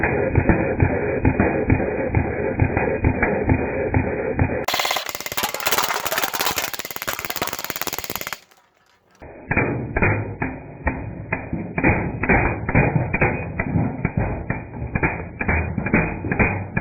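A full metal airsoft gun fires rapidly at cans in a steady, fast rattle of shots, broken by a louder hissing burst, a brief silence, then more rapid firing.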